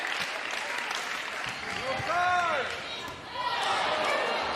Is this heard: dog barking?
no